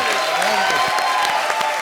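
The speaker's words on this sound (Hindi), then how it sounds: "एक बार जोरदार ताली।" A studio comedy audience claps loudly for director David Dhawan in a brief, steady burst of dense applause.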